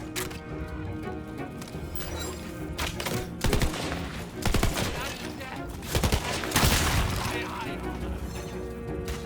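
Rapid gunfire bursts from Tiny Tina's Wonderlands gameplay, loud repeated volleys with impacts and explosions over a constant game soundtrack, with talk mixed in.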